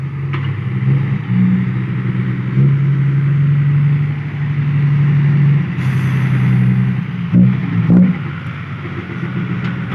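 A tractor engine runs steadily and close by with a strong low drone, briefly rising in a rev near the end; no one speaks.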